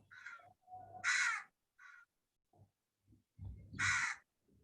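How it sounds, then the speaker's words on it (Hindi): A crow cawing close by in a series of harsh, raspy calls with short pauses between them, the two loudest caws standing out from the rest. "भगाओ यार, कौवा को भगाओ"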